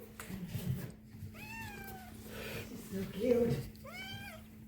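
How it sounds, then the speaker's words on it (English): A cat meows twice with rising, drawn-out cries, while a person speaks softly nearby and a low steady hum runs underneath. "Meow."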